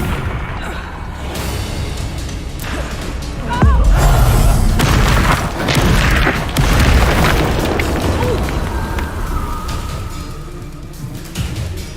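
A Confringo blasting spell explodes in the video game Hogwarts Legacy, a loud booming burst around the midpoint with a second blast soon after, amid crackling battle noise and faint voices.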